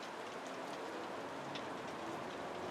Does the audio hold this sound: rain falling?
yes